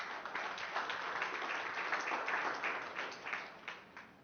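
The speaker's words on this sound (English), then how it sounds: "Give him a round of applause" Spectators applaud a player at a professional 9-ball pool ranking event, a steady patter of clapping from a modest crowd, moderately distant, swelling slightly and then tapering off toward the end.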